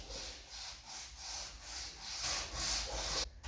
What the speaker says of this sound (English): scuffing up the veneer a bit, just to give the paint a little bit of something to grab onto